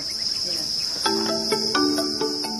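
Crickets on a Thai insect farm chirp in a steady high-pitched drone, with louder rhythmic trills from nearby insects joining after a moment, with no voices heard.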